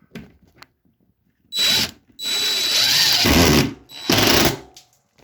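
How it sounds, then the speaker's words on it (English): A power drill drives a screw into wood backing for drywall, with three loud whirring bursts of varying length and short pauses between them, close up and with no talk. "Let me get another screw on here."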